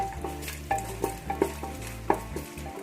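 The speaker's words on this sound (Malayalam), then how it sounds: "കുറച്ചൊന്ന് ഫ്രൈ ആവുന്നിടം വരെ ഇളക്കാം" Pepper, raisins and cashews frying in a pan for beetroot pulao, stirred with a spoon that scrapes and taps the metal in several sharp knocks over a low steady sizzle, close and moderately loud.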